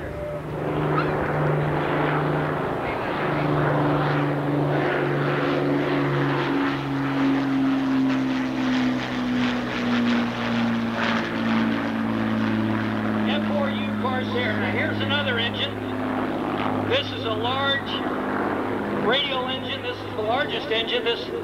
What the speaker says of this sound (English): Here's the great Lancaster again, ladies and gentlemen.